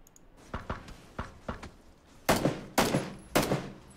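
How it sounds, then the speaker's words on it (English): Gunfire in a competitive shooter match during a tournament qualifier: a few light shots and footsteps early, then three loud, sharp bursts in quick succession, close and punchy, with no talk over them. "He's been taking a lot of shots."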